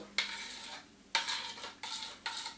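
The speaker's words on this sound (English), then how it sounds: "you're going to take your spoon and you're going to stir, just mix it in, just stir it in" A spoon stirring homemade ice cream mixture in a bowl, four close scraping strokes in an uneven rhythm with short pauses between them, no talking.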